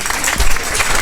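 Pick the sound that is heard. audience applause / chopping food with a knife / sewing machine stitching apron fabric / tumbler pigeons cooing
audience applause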